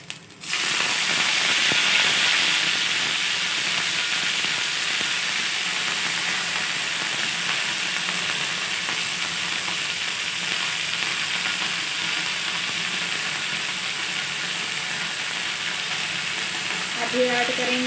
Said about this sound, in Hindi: देख सकते हैं हम लोग का लहसुन और चिली अच्छे से भुन चुका है।